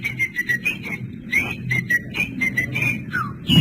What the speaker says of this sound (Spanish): Chiflan, pero muy fuertemente.